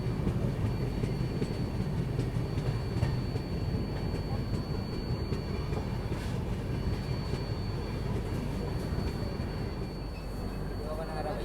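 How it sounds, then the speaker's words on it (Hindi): A passenger express train running on the tracks, heard from onboard as a loud, continuous rumble with faint rhythmic clatter throughout and a high steady whine above. "थम्स अप हिल के पास से भी हम लोगों की ट्रेन क्रॉस कर रही है"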